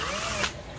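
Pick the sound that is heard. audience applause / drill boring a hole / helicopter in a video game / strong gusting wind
drill boring a hole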